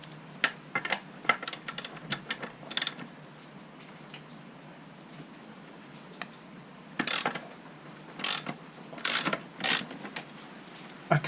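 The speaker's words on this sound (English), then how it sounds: "Now just need to slacken off the wheel axle." A spanner loosening the rear wheel axle nut on a KTM Duke motorcycle, producing bursts of rapid metallic ratchet clicks and scraping, close up, with quiet pauses between the turns.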